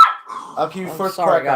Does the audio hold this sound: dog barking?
yes